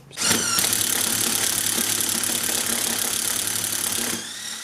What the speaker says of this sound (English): for our purposes we're just going to use a power drill